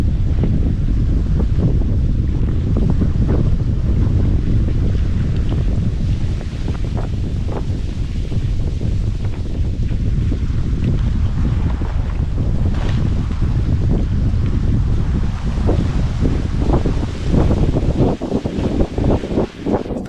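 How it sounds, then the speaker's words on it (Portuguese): Strong wind gusts across a swamp lake in a forest, buffeting the microphone with a loud, continuous roar and rumble that swells and ebbs and never drops away. "Tá ventando forte."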